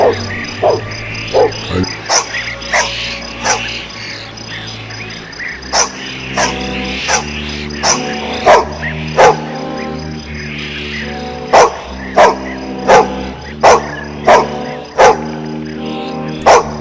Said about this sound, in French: Que tu as jappé comme ça sans arrêt depuis tantôt?